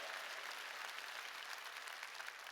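A church congregation claps during a sermon at a Korean church, filling the space with steady, dense, continuous applause without talking.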